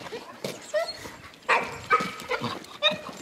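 Dogs chasing a wood rat, with excited yips, whimpers and short barks in bursts of varying loudness, some close and some farther off, over rustling ground noise.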